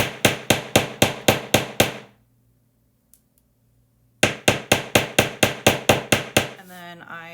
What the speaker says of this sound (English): I use a nylon bench block and a nylon hammer so that I don't scratch the wire